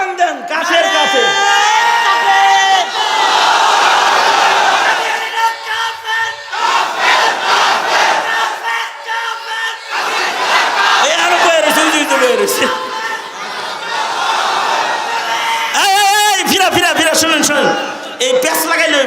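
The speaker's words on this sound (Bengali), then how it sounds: "এবার স্লোগান দেন, কাফের কাফের।" At a religious sermon gathering, a large crowd chants the slogan "kafer kafer" in loud rhythmic unison shouts, answering a leader's call in repeated waves.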